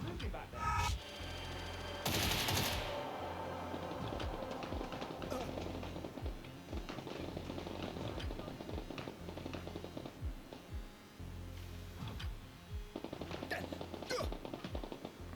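Rapid gunfire rattles through a tense shootout in the shooter game Get Even, loud bursts and single shots cracking irregularly over a dense, rumbling background.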